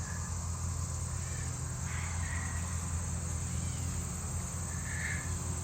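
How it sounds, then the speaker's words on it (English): A bumblebee gathers pollen on a flower along a mountain hiking trail, producing a faint, continuous low buzz with soft outdoor ambience and a few distant chirps. "Here we see a little bumblebee at work."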